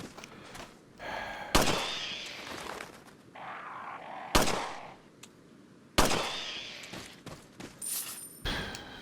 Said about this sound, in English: Literally fire a shot.